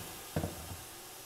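A splash of water hits a hot pot of spiced meat for majboos with desert truffles, black lime, chickpeas and raisins, giving a short, sharp sizzling hiss that quickly fades to a faint simmer.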